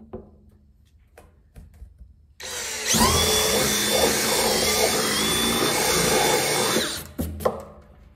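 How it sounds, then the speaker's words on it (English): Power drill boring a starting hole in a plastic barrel for a pig waterer, a loud steady whine lasting about four seconds after a few handling knocks, then winding down. "the first thing I'm going to do is drill a hole in this"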